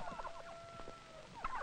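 A turkey gobbler and other poultry on a poultry farm, in a 1948 recording, repeat calls and gobbling over a steady background hum, with several bursts of clucking and a louder gobble near the end.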